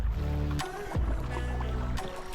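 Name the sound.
paddling a kayak on water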